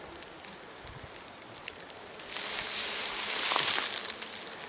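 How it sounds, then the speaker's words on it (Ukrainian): Flies buzzing over a meadow clearing, a faint scattered hum that swells into a louder, denser buzz partway through, with no voices. "Оце все, що здається бджолами, це все мухи."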